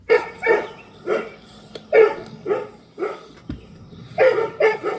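Several dogs kept around a house bark loudly and repeatedly in short, close bursts, with barks spaced roughly half a second apart and a brief pause before a quick final cluster.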